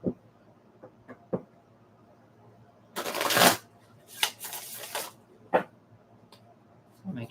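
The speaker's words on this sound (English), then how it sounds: "Every time I shuffle, it feels like someone's not facing the same way." Tarot cards are shuffled in several bursts, with short riffling rustles and one longer flurry of card noise, close and moderately loud, separated by small taps and pauses during an evening reading.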